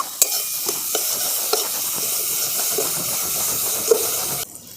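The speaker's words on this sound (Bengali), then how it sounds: "খুব ভালো করে মশলাটা আমি ভালো করে কষিয়ে নিয়েছি" Masala sautéed and stirred in oil for a fish-egg kalia, a steady sizzling hiss with soft scraping stir strokes and a few sharper clinks, close and continuous, ending in a quieter tail.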